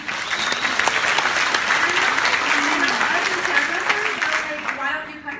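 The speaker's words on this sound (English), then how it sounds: "Give her a round of applause." An audience at a Melbourne hair expo claps loudly and steadily for several seconds, a dense even wash of applause that thins out at the very end, with some talking mixed in underneath.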